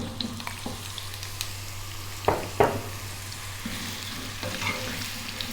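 Pumpkin pieces dropped into a hot pan with oil and curry leaves give a steady close sizzle and fry, with a couple of sharp stirring clatters partway through.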